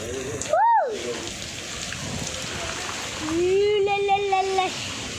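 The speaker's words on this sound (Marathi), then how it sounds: "गाईज खूप पाऊस आलेला आहे बघा." Heavy rain pouring down on a rainy day, a constant dense hiss of drops throughout, with voices, including a child's, speaking briefly over it.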